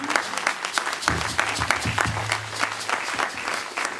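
A church congregation at a New Year service claps steadily and fairly loudly throughout, a dense wash of applause with scattered individual claps standing out and a low hum underneath.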